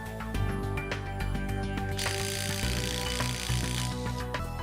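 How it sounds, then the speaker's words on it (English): An impact driver hammers bolts tight on a TE Connectivity cold splice connector until they shear off, a rapid rattling stream of impacts that grows harsher midway, over steady humming tones. "For the purpose of this video, we will use an impact driver."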